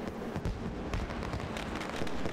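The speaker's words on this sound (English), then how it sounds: "the fireworks are going off here in the background at Auto Club Speedway" Fireworks crackle and pop in a rapid, dense barrage at Auto Club Speedway, fairly faint and distant, with overlapping bursts throughout.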